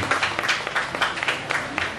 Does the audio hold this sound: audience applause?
yes